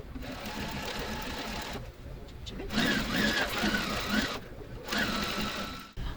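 Domestic sewing machine running in bursts as two quilt halves are joined, a steady motor whir with gaps where it pauses, close and moderately loud.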